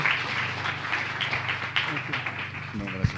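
A church congregation applauds in praise, a steady wash of clapping under a sustained low musical hum, with a few sharper claps and a brief voice near the end.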